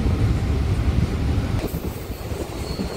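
A local train rumbles into Arambagh station in Hooghly district, a loud, close, continuous rolling of wheels and carriages with a faint high squeal near the end.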